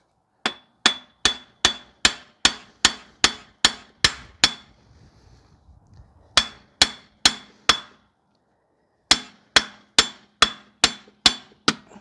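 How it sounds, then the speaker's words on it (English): Hammer blows on a 2005 Toyota Corolla rear hub assembly, loud sharp metallic strikes in fast even runs of about a dozen, then a short pause, another burst, a gap and a final volley, with no talking. "trying to whack this out, see if I'm able to get the hub out."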